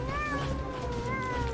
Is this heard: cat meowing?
yes